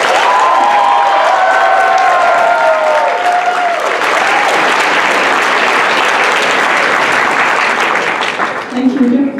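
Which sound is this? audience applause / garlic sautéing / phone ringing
audience applause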